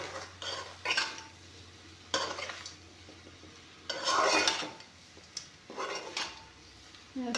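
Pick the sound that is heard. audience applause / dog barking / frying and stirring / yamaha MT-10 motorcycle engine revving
frying and stirring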